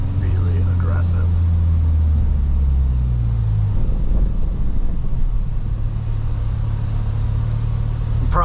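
Modified 2022 Volkswagen Golf R rumbles along after an aggressive downshift, a deep engine drone heard from inside the cabin with road and wind noise, while someone talks over it.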